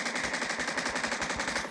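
Rapid automatic rifle fire in a video game, a fast even stream of sharp shots at close range, about a dozen in under two seconds, heard alone without talk.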